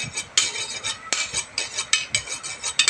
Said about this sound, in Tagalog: Hiwain na natin ng pangigado ito mga katadtad.